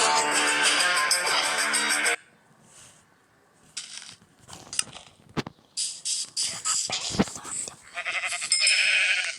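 Sheep bleating in a block-building survival video game, a loud harmonic bleat at the start followed by quieter game sounds and a few brief bleat-like bursts, with a louder tonal flourish near the end.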